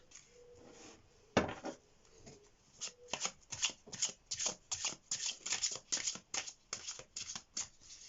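Tarot deck being shuffled by hand: a run of crisp, rapid card riffles and slaps, close and fairly loud, coming in quick repeated bursts with short pauses between them.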